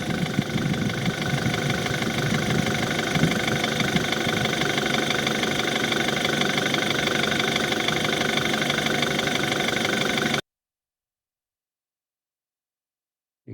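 A 2012 BMW 528i engine idles with a steady, even mechanical hum and light ticking, heard close and continuous for about ten seconds before it cuts to silence.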